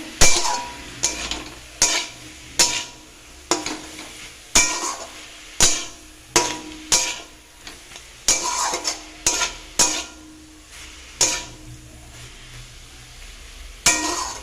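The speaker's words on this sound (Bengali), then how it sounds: "ভেজে রাখা আলুগুলো দিয়ে দিলাম। একটুখানি কষে আবার কষাবো।" Cabbage being stir-fried with fried potatoes in a pan, with a steady series of loud spatula knocks and scrapes against the metal about once a second over a soft sizzle, close and without talk.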